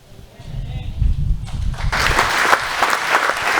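A church congregation's applause swells in after a stretch of low rumbling crowd noise and voices, growing loud and dense for the last half.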